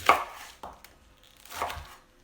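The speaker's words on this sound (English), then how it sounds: "this is all the chopping that's required in this one" A knife chops Brussels sprouts on a cutting board for a mushroom and quinoa casserole, three distinct close, crisp chops spaced apart in a quiet kitchen with no talking.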